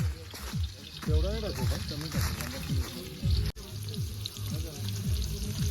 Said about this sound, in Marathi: आता दादा कांदा टाकतंय